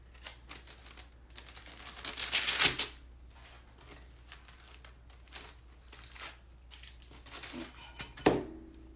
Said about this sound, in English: And let me just get the tape off of here.